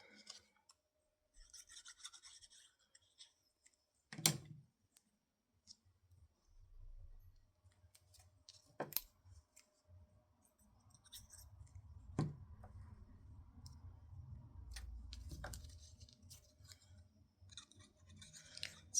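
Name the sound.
scissors cutting out paper pieces for a card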